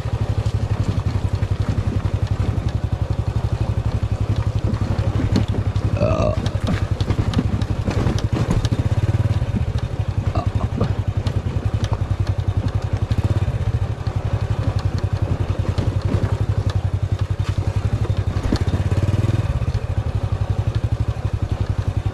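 A motorcycle engine thrums steadily and close, with clattering and rattling bumps as it rides over an uneven rural road, no talking.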